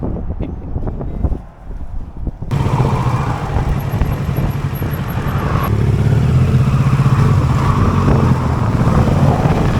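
A motorbike riding along a road near Carlingford, its engine droning steadily and loudly under heavy wind rush, starting after a brief quieter moment and holding a constant hum throughout.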